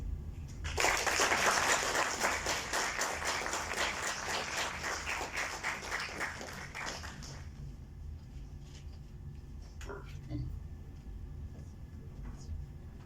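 An audience applauds after a talk on educational innovation and interactive robot workshops, dense clapping that starts abruptly, stays loud for about seven seconds, then fades to quiet room noise with a few scattered sounds.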